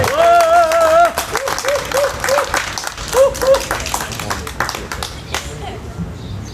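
An outdoor crowd at a candlelight democracy rally claps and cheers, the applause strongest at first and then thinning, with voices and whistle-like tones mixed in.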